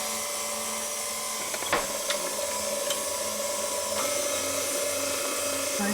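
An electric mixer beating cheesecake batter for a turtle cheesecake, a steady high whirring drone held close and loud, with a couple of brief knocks against the bowl partway through.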